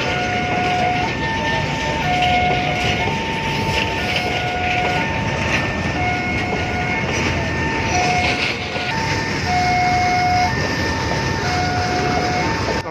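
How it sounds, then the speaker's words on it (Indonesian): Long fifteen-wagon train being shunted backwards onto track 3 at Bangil, a loud continuous rolling rumble with wheel clatter, while a repeating two-tone warning signal sounds nearby throughout. "Rangkaian dilangsir mundur ke jalur 3."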